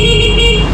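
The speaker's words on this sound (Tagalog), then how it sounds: "Busina muna tayo." A single loud, steady horn blast from a 2025 Honda Click 125 motor scooter sounds close up, a bright sustained honk lasting just under a second.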